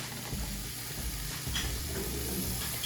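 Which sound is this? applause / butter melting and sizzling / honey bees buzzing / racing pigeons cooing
butter melting and sizzling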